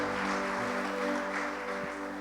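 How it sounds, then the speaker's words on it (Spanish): Church congregation applauding, a steady wash of continuous clapping over a low sustained hum, loud and unbroken throughout. "Vamos a dar un aplauso al Señor"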